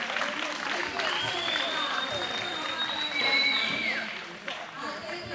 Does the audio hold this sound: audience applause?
yes